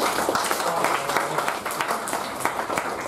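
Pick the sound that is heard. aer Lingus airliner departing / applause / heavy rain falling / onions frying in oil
applause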